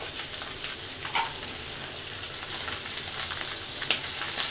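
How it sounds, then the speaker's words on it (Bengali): Pata fish frying in hot, spattering oil, a constant dense sizzle with scattered sharp pops and crackles, heard close and alone. "মাছ ভাজি মোটামুটি লাল হয়ে গেছে"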